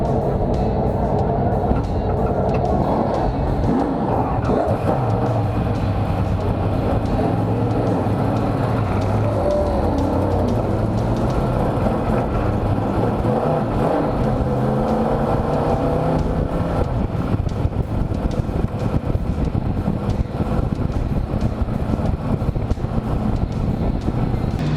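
Race cars roar around the track during a race, a broad, continuous engine drone with passing surges that rise and fade, heard from a distance and mixed with wind.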